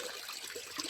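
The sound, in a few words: water being shaken up in a garden fish pond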